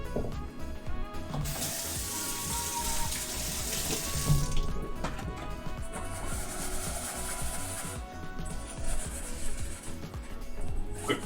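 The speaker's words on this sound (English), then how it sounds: "Quick rinse up on our marinade bowl here." A marinade bowl is rinsed under a running kitchen tap: a continuous close stream of water splashing into a sink, with rubbing and knocking of the bowl throughout.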